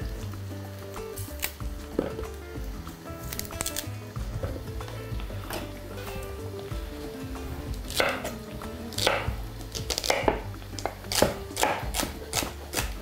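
A knife chops two leafless celery stalks on a cutting board for a Hungarian goulash, giving irregular sharp taps that grow denser and louder toward the end, with no talk.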